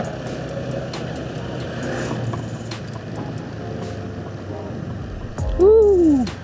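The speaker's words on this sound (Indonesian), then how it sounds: "Wis, ada mobil." A car on a winding mountain road in Gayo Lues, Indonesia, with a steady low engine drone throughout and a sharp rising-and-falling engine whine that swells loudly near the end.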